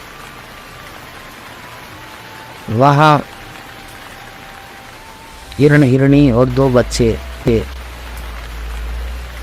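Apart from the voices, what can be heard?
rain sound effect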